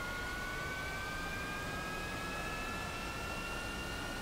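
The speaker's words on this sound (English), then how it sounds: "I need to run the engines up until I get the generator light off." A MiG-15 jet engine runs up in the DCS flight simulator, giving a steady roar with a sustained high whine that rises slightly and holds at a constant level throughout.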